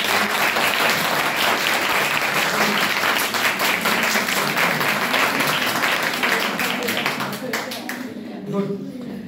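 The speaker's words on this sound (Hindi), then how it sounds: "तालियां बजाओ।" Students in a history lecture hall break into loud, dense applause for a classmate, the clapping sustained for several seconds before tapering off and stopping near the end.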